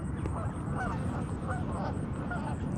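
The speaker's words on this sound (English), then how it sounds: "I see there's lots of Canada geese on this field" A flock of Canada geese honks steadily across an open field, repeated nasal calls overlapping at moderate distance over a constant background hiss, with no talking.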